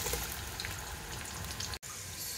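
Onions dropped into hot palm oil for egusi soup give a steady, close sizzle and hiss that holds evenly throughout, broken by one very brief dropout near the end.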